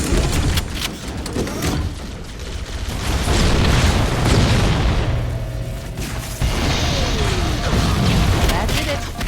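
Pulse generator overloading and blowing up in Halo, a sustained loud rumbling roar of booms and bursts with mechanical clatter throughout, voices talking over it.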